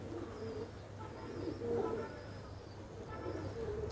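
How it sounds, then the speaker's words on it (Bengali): Pigeons cooing at an outdoor pigeon market in Khulna, several soft throaty coos spaced across the clip over a low background hum, moderately distant and faint. "অনেক কবুতর আছে এখানে।"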